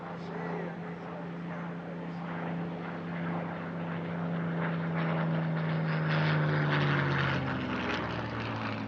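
A Spitfire warbird flying at a European airshow at Villaroche, its propeller engine producing a loud, continuous droning roar with a steady low hum that shifts downward in pitch as it passes, growing louder toward the end.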